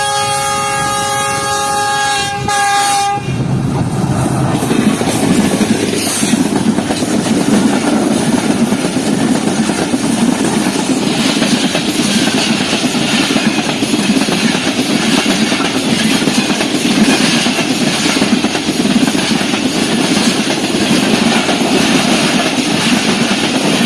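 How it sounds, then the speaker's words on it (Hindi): The 2 Down Khyber Mail passenger train, led by GU40 locomotive 9007 on the Peshawar–Karachi run, arrives at Dabheji with a brief horn blast, then a loud, sustained rumble and clatter of wagons rolling past up close. "तो दोस्तों 8:36 पर फाइनली 2 डाउन खैबर मेल हमारे सामने आ चुकी है।"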